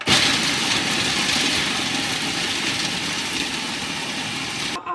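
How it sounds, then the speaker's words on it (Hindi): An electric chopper coarsely grinds roasted nuts for panjeeri, a steady loud motor whir running nearly the full five seconds before cutting off abruptly near the end. "मैं चॉपर में डाला और मैं इसको दरदरा सा ग्राइंड कर लूँगी।"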